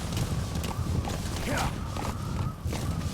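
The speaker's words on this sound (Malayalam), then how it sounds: "എന്താണ് കുതിര ഇങ്ങനെ പോകുന്നത്?" Horse hooves in the video game Metal Gear Solid 5, a steady rhythmic clip-clop of a walking horse mixed with game ambience, fairly close and continuous.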